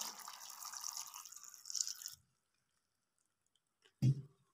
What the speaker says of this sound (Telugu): ఇందులో ఒక గ్లాస్ దాకా వాటర్ పోసుకోవాలండి.